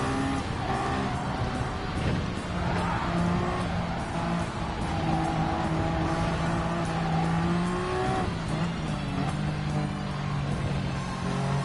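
Race car engines roar continuously with shifting revs and tyre noise as a Gr.1 prototype field, including a Sauber Mercedes C9 and Nissan GT-R Nismo LM, laps Fuji International in Gran Turismo 7; loud, dense and steady throughout.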